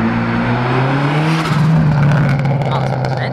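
An old Saab drives past at a drive-by car show, its engine drone rising and swelling as it nears, with people talking over it.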